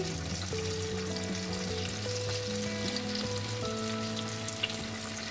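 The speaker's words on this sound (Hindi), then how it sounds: "अब मैं इस गरम ऑयल में ये मंगोचे डाल दूँगी स्टीम की हुई मंगोची हैं इनको मैं इसमें हल्का सा फ्राई करूँगी" Steamed mangochiyan fry in hot oil in a kadhai, giving an even, bubbling sizzle that runs throughout beneath steady background music.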